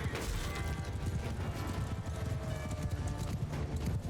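Cavalry horses gallop in a battle of the video game Mount & Blade II: Bannerlord, with a dense, rapid drumming of hooves mixed with clanking mechanical noise, loud and continuous.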